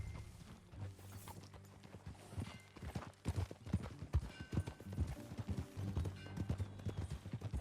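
Horse hooves clip-clop at a riding gait in Red Dead Redemption 2, a rhythmic patter of hoofbeats with low rumbling game ambience and a steady hum underneath, fairly soft overall.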